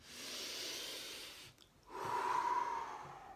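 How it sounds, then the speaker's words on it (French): A person takes a deep breath, a long airy inhale followed after a short pause by a slow, audible exhale with a faint whistling tone, close and quiet with no speech. "On prend une grande respiration."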